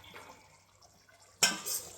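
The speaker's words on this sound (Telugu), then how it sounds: "ఇప్పుడు కొద్దిగా వాటర్ పోసుకుందాం, కొంచెం ముక్క ములిగేటట్టు ఉండాలి కదా." Water poured into a pan of fish pieces while making a traditional South Indian fish curry, heard as a sudden loud splashing rush near the end, following a quiet stretch of faint kitchen background.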